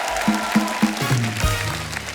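Applause from a studio audience on a TV comedy show welcoming guests, heard under loud music with heavy rhythmic beats and a voice near the end.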